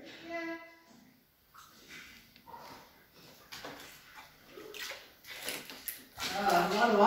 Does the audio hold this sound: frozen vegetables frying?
no